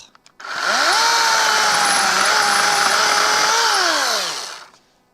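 A Ridgid 18V battery chainsaw revs up quickly, holds a loud, steady high-pitched whine for about four seconds, then winds down, heard close with no talk.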